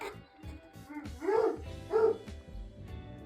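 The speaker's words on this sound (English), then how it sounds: "You can probably hear my dog in the background." A pet dog barks and whines in the background indoors, two louder yelps standing out among softer whimpers, fairly close but not dominant.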